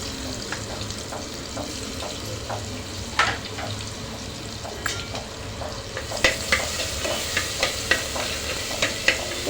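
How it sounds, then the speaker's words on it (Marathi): Green chilli, ginger and coriander paste with curry leaves and finely chopped tomato sautés in a pan, a continuous close sizzle broken by rhythmic scraping strokes of a spoon that grow quicker and louder toward the end. "असं छान परतून घेणार आहे आणि टोमॅटो एक बारीक चिरून टोमॅटो घातला आहे आता हे चांगलं परतून घेऊ"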